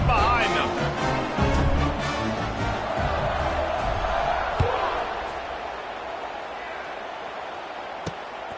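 A football stadium crowd at an Army game roars loudly at first, then fades to a softer background rumble, with a voice talking over it.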